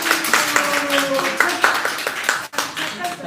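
An audience at a book concert claps in a lively burst of close, sharp hand claps, with a voice briefly heard and a faint tone sounding underneath.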